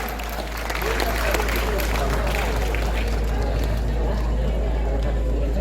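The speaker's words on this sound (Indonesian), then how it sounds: "Tepuk tangan untuk Ridwan." Applause rises from a crowd for the third-place male winner of a Minang song contest at an anniversary event in Metro, a dense, sustained clapping that swells after the first second, with a deep steady hum underneath.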